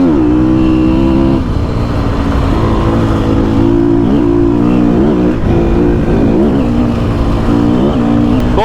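A Sherco enduro motorcycle engine being run in runs steadily nearby, a loud idle with small throttle rises and dips throughout.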